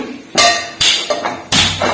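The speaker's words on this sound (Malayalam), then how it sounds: "കൂണ് തോരനുള്ള പാത്രം വെച്ചു" A metal cooking pan for mushroom thoran is set down on a gas stove, producing three loud, sharp clanks in close succession, each ringing briefly before the next.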